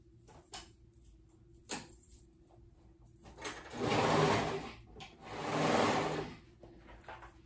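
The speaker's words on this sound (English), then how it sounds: "I'm gonna go ahead and sew all the way around." A sewing machine stitches around a sweater cuff, opening with a few quiet clicks and knocks, then two sustained whirring bursts of running motor, each about a second and a half long, close and alone.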